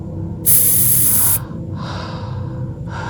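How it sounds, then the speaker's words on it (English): A can of roach killer spray hisses in one loud, close burst of about a second, followed by a softer, hissing mist afterward. "a roach killer, that deadly stuff, that spray."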